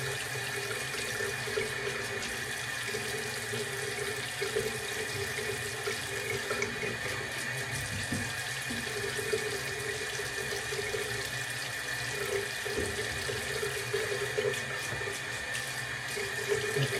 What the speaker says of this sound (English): run under the hot water.